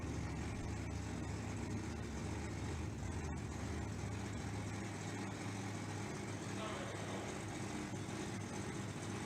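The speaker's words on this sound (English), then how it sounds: "you can hear the heavy breather coming up here with the big injected Plymouth Barracuda 1968 version" Big injected 1968 Plymouth Barracuda race car engine roaring steadily and loudly throughout at a drag strip, a dense continuous rumble with crowd and track noise mixed in.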